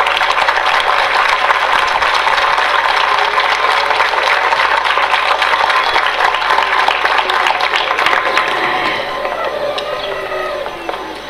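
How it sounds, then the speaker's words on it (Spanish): Sustained applause from a gathered crowd at a farewell for Beatriz Martinelli, a weaving and embroidery teacher at the Centro Permanente Hogar Agrícola in Salto, steady and dense throughout before easing slightly near the end. "Betty, un aplauso para ella"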